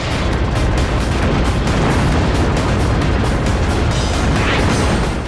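Heavy cannon fire rumbles nonstop in a video game, a dense, loud, unbroken roar of rapid shots that fills the whole stretch without pauses.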